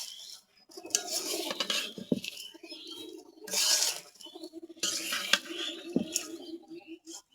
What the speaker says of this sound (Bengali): এই তো সেমাইগুলো ভেজে নিচ্ছি।